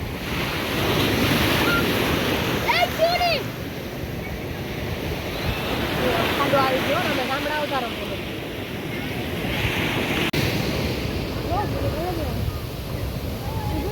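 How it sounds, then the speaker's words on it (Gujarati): Steady roar of surf washing onto Madhavpur Beach with wind buffeting the microphone, and people talking and calling out over the waves. "તમે જોઈ શકો છો મોજાને જો મિત્રો"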